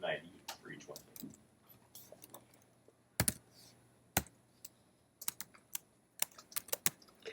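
Fast typing on a computer keyboard: quick irregular bursts of crisp key clicks with short pauses between runs, close and fairly quiet, with a brief voice near the start.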